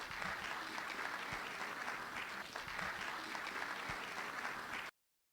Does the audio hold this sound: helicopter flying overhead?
no